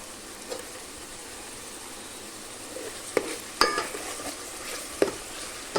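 Onion paste frying in a pan with ginger-garlic paste added, a steady soft sizzle broken by a few sharp clinks and scrapes of a spoon against the metal, close and fairly quiet with no talking.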